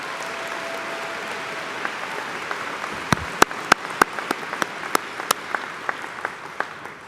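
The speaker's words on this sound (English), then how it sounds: "Let's give them another round of applause." At a spring commencement ceremony, soft distant clapping trails off into a few sharp, separate claps that repeat in a loose rhythm, near and distinct against a quiet hall.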